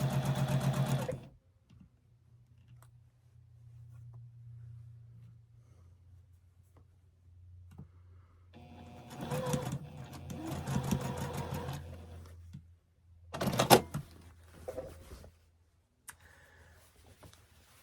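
A sewing machine stitches quilt blocks in a few short bursts of whirring, with a faint low hum between them and quieter pauses in a calm room.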